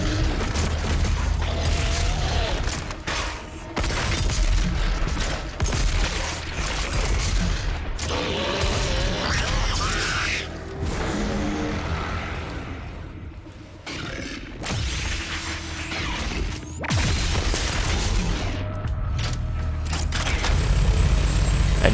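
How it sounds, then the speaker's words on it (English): In the Doom Eternal video game, a minigun attachment fires in dense, roaring bursts mixed with booms and explosions, loud and nearly unbroken, with brief gaps between volleys and no talking. "here we get to try out our new minigun attachment. As you can see, it definitely puts in the work."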